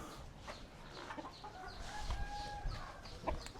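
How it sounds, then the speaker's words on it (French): A rooster clucks and calls at a rustic outdoor market on a remote Indonesian island, its repeated short clucks heard faintly amid a busy background of market ambience. "Il y a même un coq ici."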